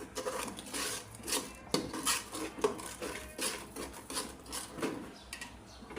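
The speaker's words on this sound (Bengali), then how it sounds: "মশলাটা একটু মিশিয়ে নিই।" A spoon scrapes and stirs spices with ginger and garlic in a metal pot for a beef, milk and potato curry, producing repeated close rasping strokes and clinks with no talking.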